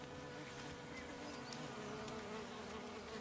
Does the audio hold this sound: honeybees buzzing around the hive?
yes